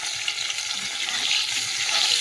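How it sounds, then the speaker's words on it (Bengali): Parshe fish frying in hot oil, a steady dense sizzle filling the short stretch at an even, fairly loud level with no voices. "এবার মাছগুলো ভেজে নিচ্ছি।"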